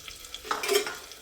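Ginger garlic paste sizzling and being stirred in a hot pan while making a fish curry, a short soft burst of frying with scraping that swells midway and then fades, no talking.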